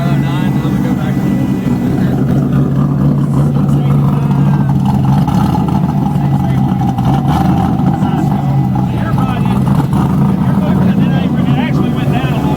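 A V8 from an LS swap roars loudly and steadily in a Miata as it is revved to about 6,000 rpm, a sustained, heavy drone with a tone that shifts slightly as the pull goes on. Voices can be heard under the engine.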